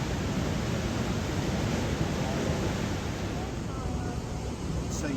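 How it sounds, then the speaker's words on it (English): Powerful water rushes out of a hydroelectric dam outlet at Sitka in a steady, loud broadband roar, continuous and close, with no breaks throughout. "see that force of the water that's coming out there?"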